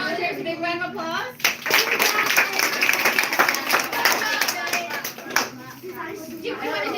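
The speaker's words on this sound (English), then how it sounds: "There's a big round of applause." A group of children at a library clap in a big round of applause, a dense, steady patter of small hands lasting several seconds, with kids' voices chattering and calling out over it.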